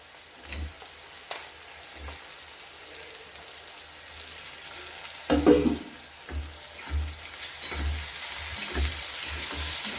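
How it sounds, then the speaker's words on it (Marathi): Tomatoes sautéing in a pan with chilli powder and salt for a dried prawn (sukat jhinga) dish, giving a soft steady sizzle broken by a few louder stirring scrapes and clatters, with no one talking. "परतून घेऊ टोमॅटो मस्त असं शिजवून घेऊया"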